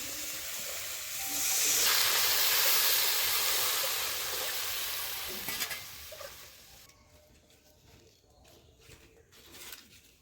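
Water poured onto frying vegetables and spice paste sets off a loud surge of steamy hiss that slowly fades into quieter bubbling, with a few utensil knocks toward the end.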